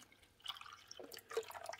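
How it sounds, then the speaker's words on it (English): Water poured into the rear reservoir of an Amazon Basics 5-cup coffee maker, a soft trickling and splashing in short bursts, quiet and close with no talk. "we're just going to put water. Water goes in the back here."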